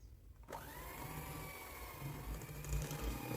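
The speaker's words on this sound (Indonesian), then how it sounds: "Sudah cukup, bisa dimatikan mixernya." An electric mixer whirs as it beats baked sponge cake batter with sweetened condensed milk and vanilla paste, its motor whine starting abruptly after a short pause and running steadily and fairly loud to the end.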